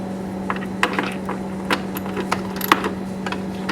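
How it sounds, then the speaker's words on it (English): Metal wrench tightening bolts on a cold air intake being fitted to an R53 MINI Cooper S, heard as scattered light clicks and small metallic taps over a steady hum, close by and fairly quiet. "go ahead and tighten them down with the wrench again"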